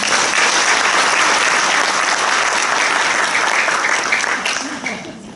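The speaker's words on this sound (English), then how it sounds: "Please give them a round of applause." Audience applause for two business directors at a company success-story event: dense, steady clapping from a large crowd, loud and continuous before tapering off in the final second.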